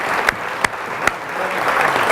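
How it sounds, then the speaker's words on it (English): Crowd applause at a team gathering, a dense continuous clapping with a few sharper individual claps standing out, close and fairly loud. "give yourselves a round of applause"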